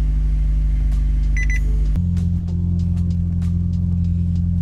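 A 2015–2020 Subaru WRX STI, just fitted with an AEM fuel pump, starts up and idles loud and close. A brief electronic beep sounds during the start, then the engine note shifts and settles into a steady rumble.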